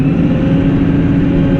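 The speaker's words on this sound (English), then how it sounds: "Now I'll put full revs on to" A Puma 240 tractor engine runs at full revs, a steady, loud mechanical drone with a constant pitch and no rise or fall, heard close up with no talk.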